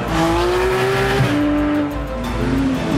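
A 4-litre Porsche 911 special accelerates hard on a track, its engine note climbing through the revs with a brief tyre squeal, loud and close throughout, with a gear change around the middle and another rising pull.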